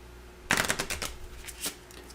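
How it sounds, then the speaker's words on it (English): A deck of game cards is riffled in a quick burst of crisp, fluttering snaps, close and fairly quiet, followed by a few softer taps as the cards settle. "And then I will shuffle."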